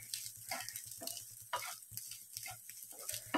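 Egg and ground spice paste stirred together in a hot pan for a Kerala-style egg thoran, with steady sizzling and frying under rhythmic scraping strokes of a spoon, close and alone.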